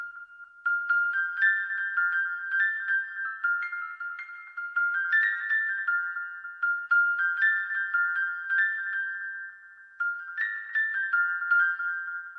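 A soft, thin piano melody loop of high repeating notes, played in short phrases that repeat several times at a gentle, even level with no voices.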